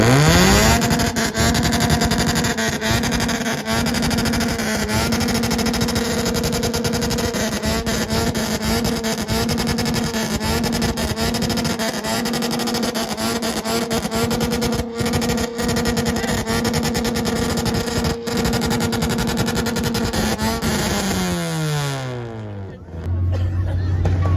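Motorcycle engine revving hard in a nighttime rev battle, a loud continuous high-revving drone held for about twenty seconds before winding down, with crowd noise underneath.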